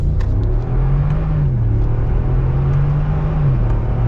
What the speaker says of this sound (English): Let's see how it accelerates.